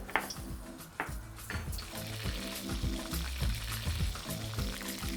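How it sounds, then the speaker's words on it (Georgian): Steady oil sizzling and crackling from starch-coated pork and chicken frying in a pan, continuous and fairly loud with a few sharper pops near the start. "ღორის ხორცი და ქათმის ხორცი კარგად უნდა ამოვავლო სახამებელში და დავიწყე შეწვა."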